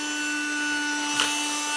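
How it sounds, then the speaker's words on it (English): A Numatic Mini Henry Hoover vacuum cleaner runs close by as a steady, even whine with a constant tone, holding without a break apart from one small bump in the noise. "I just want to see Henry Hoover at work."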